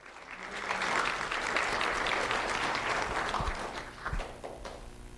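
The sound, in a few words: audience applause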